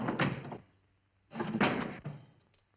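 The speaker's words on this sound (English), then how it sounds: "My husband's been meaning to fix this door for some time" An old, worn door in a kitchen, opened and closed twice in close succession, each movement a fairly loud, near, creaking scrape with knocks and a soft thud, separated by a brief quiet pause.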